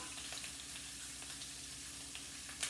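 Green chili and garlic fry in hot oil for Indian vada pav, giving a steady, close sizzle with small crackles and pops throughout, no voices over it.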